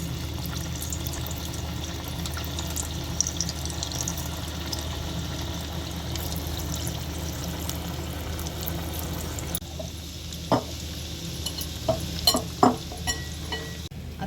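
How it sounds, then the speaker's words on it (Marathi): Sweet potato kofta balls fry in very hot oil for a fasting-style kofta curry, a continuous, even sizzle with soft clinks and splashes later as more balls are dropped in. "तेल आपलं छान कडकडीत तापलं आहे. आता आपण हे गोळे एक एक करून सोडूया."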